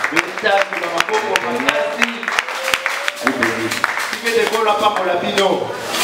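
A church congregation applauding during a French-language service, dense sharp claps throughout at close range, with a voice speaking over the clapping.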